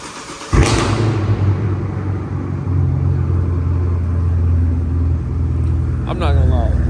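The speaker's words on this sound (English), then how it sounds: "we're gonna get y'all a cold start right now" A Chevrolet Camaro SS engine cold-starts with a sharp crank and loud bark, then settles into a deep, steady, rumbling idle close by, with a brief rise in revs near the end.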